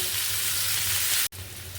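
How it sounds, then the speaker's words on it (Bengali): Close, steady sizzling of food frying in a pan, cut by a brief sharp break near the end, then the sizzle resumes. "এটা যতক্ষণ ভাজা হচ্ছে"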